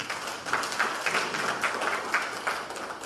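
Applause from a press-conference audience in Freetown, Sierra Leone, a steady wash of many hands clapping at moderate volume, fairly close and sustained throughout with no talk over it.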